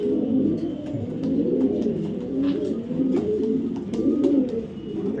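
Several racing pigeons coo continuously in low, throaty rolling phrases, close by, with faint background clatter and no talking.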